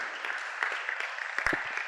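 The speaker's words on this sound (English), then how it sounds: "let's give him another round of applause." An audience at a church youth talk show gives a brief round of applause, a close, crackly patter of clapping hands with a few sharper claps standing out near the end.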